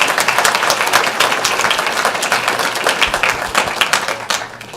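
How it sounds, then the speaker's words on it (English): Warm applause for the county sheriff from the audience at a school board meeting, many hands clapping loudly and close in a dense, even burst that begins to thin near the end. "Let's give him a warm applause"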